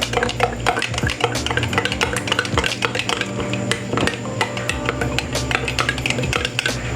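Seasoned crackers tumble and scrape inside a bowl as they are mixed, producing a dense, continuous run of clinks, rattles and dry clatter close by, with no talking over it.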